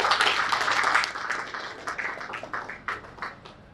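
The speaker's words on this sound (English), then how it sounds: "Please, let's give him a round of applause as well." Applause for an Airtel Nigeria executive at a fellowship conferment ceremony, a moderate burst of clapping from a crowd that fades into scattered claps.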